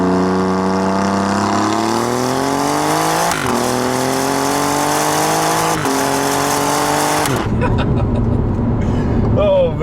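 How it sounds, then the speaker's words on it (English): Alfa Romeo Giulia Quadrifoglio, 2017, accelerating hard, engine note climbing steeply through several gears with abrupt shift breaks, then easing off into lower rumble and wind; a voice speaks over it. "that acceleration is also absolutely blistering"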